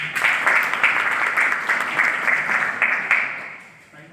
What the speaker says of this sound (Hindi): ताली बजाइए प्लीज